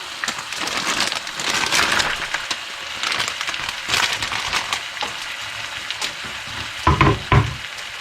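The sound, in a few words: wild boar and sugar snap peas sizzling in stir-fry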